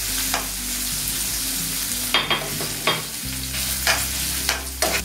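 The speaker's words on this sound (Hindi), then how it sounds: "मावा ऐड करने के बाद इसे 1 से 2 मिनट तक बनाएंगे, जब तक मावा से खुशबू ना आए।" Mawa being stirred and fried in a pan for kalakand: a steady low sizzle with repeated scraping strokes of a spoon every half second or so, close and fairly loud, with no talking.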